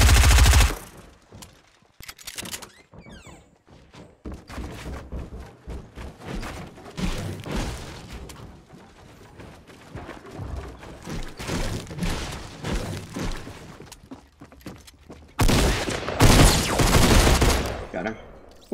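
Pistol shots ring out in Fortnite as sharp, loud, irregular bursts scattered through a busy game soundscape, with heavier clustered blasts near the start and the end.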